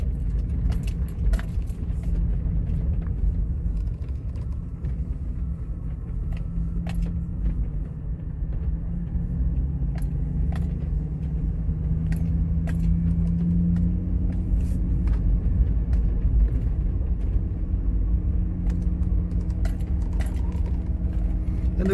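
A car drives a remote road in Alaska toward the highway, giving a steady low engine and road rumble throughout with scattered light rattles and jangling inside the cabin.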